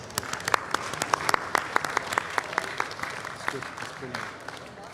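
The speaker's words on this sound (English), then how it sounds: "And let's give him a big round of applause." Applause from an audience at the World Culture Festival, a burst of many hands clapping with a few sharp individual claps standing out, moderately loud and close.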